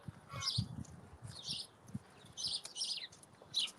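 Birds sing and chirp from trees, bright repeated phrases coming in short bursts every second or so at moderate distance, over a low murmur of background rumble.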